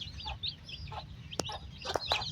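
Hens cluck in short, scattered calls on a poultry farm, several birds close by over a steady low background hum, with a few sharp clicks mixed in.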